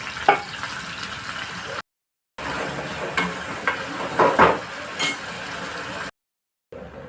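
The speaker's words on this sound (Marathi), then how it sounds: "आता मी कढईत तेल टाकते चिरलेला कांदा टाकते" Chopped large onion frying in oil in a kadai for a dry Bombay duck dish, a close steady sizzle with occasional metallic clinks and stirring scrapes, broken by two brief silent gaps.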